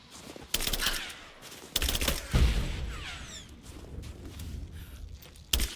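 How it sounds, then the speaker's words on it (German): Gunfire in the Rise of the Tomb Raider video game: several loud, sharp broadband bursts, with a big blast near the middle, followed by rustling and scuffing movement. "Ja, ein Schuss."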